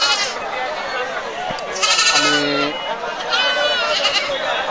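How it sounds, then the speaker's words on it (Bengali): Black Bengal goats bleat repeatedly at a crowded goat market at Chatmohar rail bazar, several calls rising over the bustle while someone talks close by. "দেখেন আর পিছনে অসংখ্য ছাগল দেখা যাচ্ছে"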